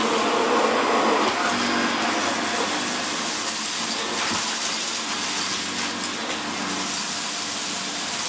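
A Vax Mach Air Reach U90-MA-R cylinder vacuum cleaner from 2013 runs loudly and steadily nearby, making a constant broadband roar and whoosh with no break.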